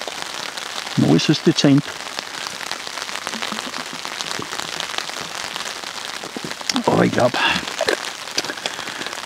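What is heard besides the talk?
rain falling on a shelter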